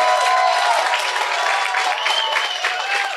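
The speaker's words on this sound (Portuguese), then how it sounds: "Vamos dar uma salva de palmas para o colega" A room of students claps for a classmate at a youth parliament session, dense steady applause from many hands throughout, fairly loud and close, with no talking over it.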